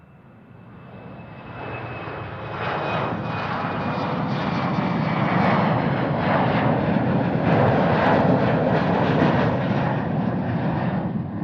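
Airliners roar at Amsterdam Schiphol Airport, a steady broad engine rumble swelling over the first few seconds and holding loud and continuous, with a thin whine riding on top and no talk.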